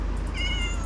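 A cat meows once in a Minecraft survival world, a short faint cry over a steady low game background.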